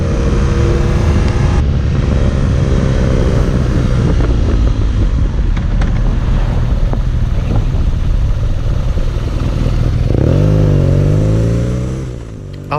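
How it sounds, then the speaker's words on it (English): A 2019 BMW RnineT Urban G/S motorcycle cruises at speed on faster roads, its engine droning steadily and loud under heavy wind rush, with a rising rev near the end before easing off. "After getting the bike into the right gear, I took it on some faster roads."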